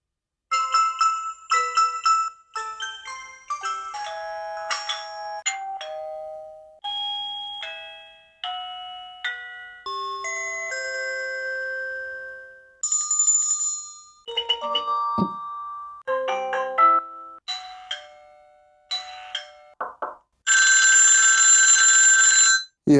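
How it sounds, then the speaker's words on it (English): A TP-Link Tapo D225 smart video doorbell plays through its ringtone options: a series of short electronic chimes and melodic ding-dong tunes, each a clear tonal jingle separated by brief pauses, ending with a louder, buzzier tone. "it gives me different options for ringtones"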